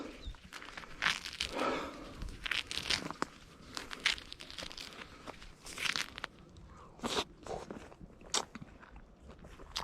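Jeju tangerine being peeled and eaten in an orchard: close, irregular crinkling and tearing of rind followed by soft biting and chewing, with no talking.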